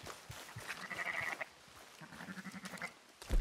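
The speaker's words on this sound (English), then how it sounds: "I got some sheep over here" Sheep bleat in a couple of drawn-out calls, moderately near, amid light background noise and faint clicks from Red Dead Redemption 2.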